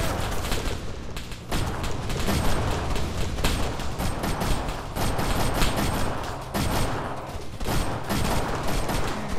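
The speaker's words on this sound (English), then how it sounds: "Taking fire!" Gunfire in a military video game: sustained loud bursts of rifle and machine-gun fire, rapid repeated cracks with brief pauses near one and a half and six and a half seconds, close and dense throughout.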